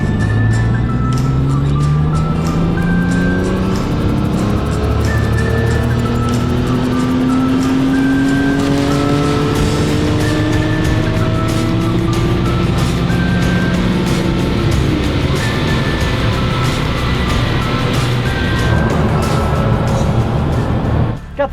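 A tuned BMW 335i Rocket Bunny, remapped to 403 horsepower and 626 Nm, revs hard and loud. Its engine note climbs and falls in steady sweeps, with a constant roar throughout and no talking.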